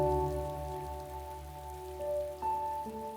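Steady rain patters on a surface, with a low hum and faint tonal background sounds beneath it and no voices.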